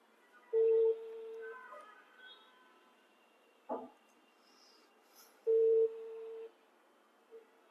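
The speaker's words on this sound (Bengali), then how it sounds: "আমরা একটু আমিরুল ভাইকে ফোন দিলাম" A phone call's ringback tone sounds on an outgoing call, with two steady ringing bursts about five seconds apart over a quiet line, and a faint click between them.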